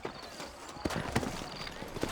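Horse hooves clopping at a slow walk in Red Dead Redemption's frontier town of New Austin, a few soft, scattered hoof strikes over quiet ambience, with a brief neigh.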